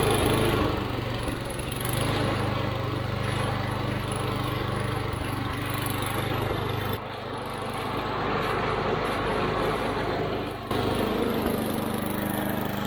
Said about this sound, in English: So, funny story about this snowblower.